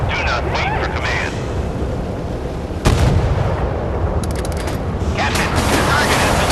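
Warship gunfire in the naval combat video game Force of Warships: a dense, loud roar of battle noise with a sharp cannon blast near the middle, heavy rumbling continuing throughout.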